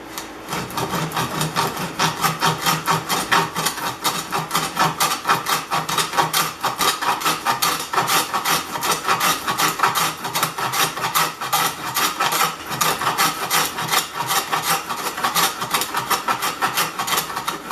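A Stanley No. 78W duplex plane cuts a rabbet 1 inch wide and 3/8 inch deep in wood. Close, rapid rasping strokes repeat steadily and densely for the whole stretch, with no talk.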